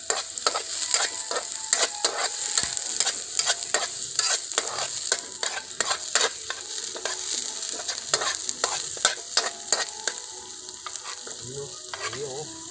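Garlic and onion frying in a pan at a riverside picnic, a bright constant sizzle with repeated spatula scrapes and stirs, close and loud without any talking.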